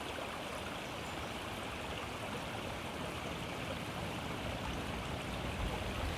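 Flowing stream water rushes in a constant, dense wash of noise that stays steady and full throughout, with no voices.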